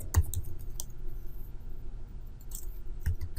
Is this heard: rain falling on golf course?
no